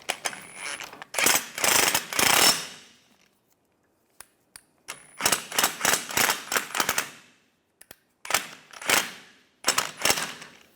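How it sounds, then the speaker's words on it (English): A ratchet wrench tightening a bolt on the rear trailing arm of a 2004-2010 BMW X3, clicking in fast, loud bursts of rapid pawl clicks separated by short pauses, close up with no talking. "And we'll tighten this down."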